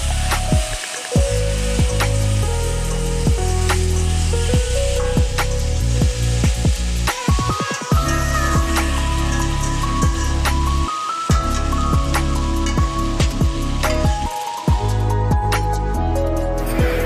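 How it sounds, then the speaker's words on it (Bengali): Potatoes, onions and chillies frying in a pan: a loud, continuous close sizzle and crackle laced with sharp spattering pops, running steadily throughout without speech. "পেঁয়াজ এবং মরিচগুলোকে ভেজে নিলাম।"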